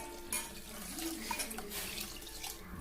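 Water poured from a tap into a pot of millet khichdi, a steady soft splashing rush with faint clinks of metal utensils, quiet and continuous.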